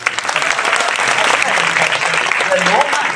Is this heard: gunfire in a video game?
no